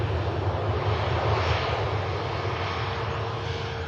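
A Saudia Boeing 787-10 Dreamliner jet in a new livery rolls along at an airport, its engines giving a steady, broad roar that holds at a moderate distance throughout, with no talk over it.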